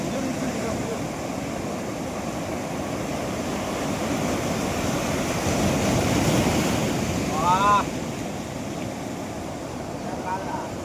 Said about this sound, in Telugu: సో దిస్ ఈజ్ ద సముద్రం